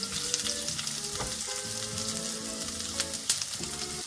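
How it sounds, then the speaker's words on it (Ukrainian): Close, steady sizzling of onion frying in a pan, with occasional stirring scrapes and no voices. "обсмажуємо на сковорідці до напівпрозорості"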